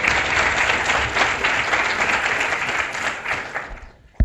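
A leadership event audience gives a round of applause, the dense, steady clapping filling a hall for about four seconds before fading.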